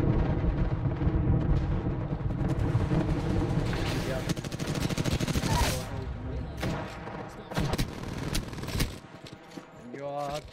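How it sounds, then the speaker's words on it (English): Video game gunfire with sustained rapid machine-gun bursts and scattered single shots, loud and dense for most of the stretch, thinning toward the end while a voice talks over it. "They are shooting each other."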